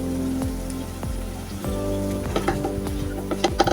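Potatoes and tender spiny gourd being stirred with shrimp and spices in a frying pan, a steady close sizzle under repeated scraping strokes of the spoon, growing busier toward the end.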